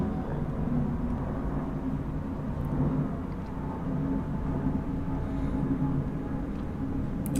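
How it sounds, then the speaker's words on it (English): Airplane passing in the background within a video game, a steady low droning rumble that stays even throughout, faint and distant-sounding, with no voices over it. "That's a plane going past in the background."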